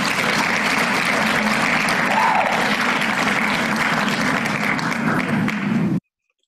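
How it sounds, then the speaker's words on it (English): A room full of people claps in a dense, loud, sustained burst of applause that holds steady for about six seconds, then cuts off abruptly into silence. "can I give you an applause to that?"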